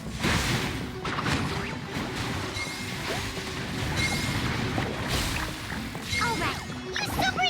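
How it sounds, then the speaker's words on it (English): Explosion in the Genshin Impact event Fabulous Fungus Frenzy, a loud crashing blast with whooshing debris that fills the whole stretch, sustained and dense, with no talk over it. "Pyro 1, release the explosion!"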